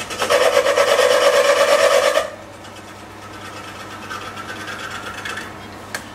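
Cutter taking a light clean-up pass to radius a part for a 1905 Hornsby engine: a loud, steady rasping whine for about two seconds, then a quieter machine hum for the rest.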